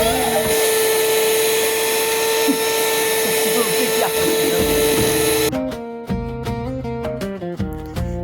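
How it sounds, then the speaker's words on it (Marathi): An electric beater whips cream until fluffy for homemade chocolate ice cream, a steady motor whir held for about five seconds before it cuts off and music takes over. "तोपर्यंत व्हिप्ड क्रीम छान फ्लपी होईपर्यंत बीट करून घ्या"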